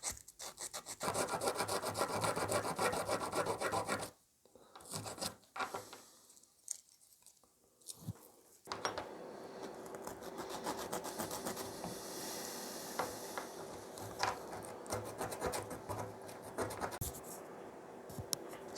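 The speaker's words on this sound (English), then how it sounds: "rub the chrome with the aluminium, and apparently that's supposed to react with the rust and remove it" Aluminium rubbed back and forth over rusty chrome on a valve radio, a close, steady scratchy scrubbing that pauses briefly with a few knocks before resuming for a long stretch.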